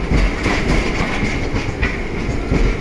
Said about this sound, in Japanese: ガタンゴトンと音を立てて電車が入信していきました。